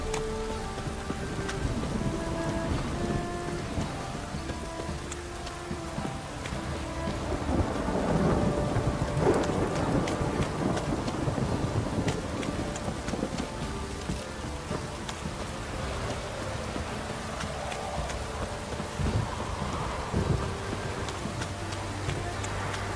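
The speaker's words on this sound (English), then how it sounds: "Don't stop raining, my arse will rot off." Rain and rolling thunder in The Witcher 3: Wild Hunt, a steady hiss of rainfall with low rumbles swelling and fading across the stretch, moderately distant and unbroken.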